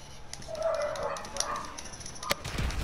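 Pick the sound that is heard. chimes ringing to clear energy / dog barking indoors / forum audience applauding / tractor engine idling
dog barking indoors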